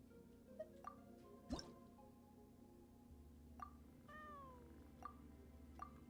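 Several short synthesized meows from a cat minigame in a video game, spread across the clip over a soft ambient music bed, with a few light dripping plinks in between.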